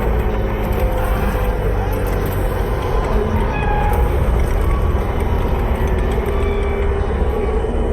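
Cat meowing in Death Stranding 2, several meows rising over a dense, loud background of rumbling machinery or vehicle noise, with no clear speech.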